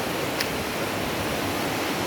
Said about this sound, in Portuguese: E a cachoeira desce pra mim.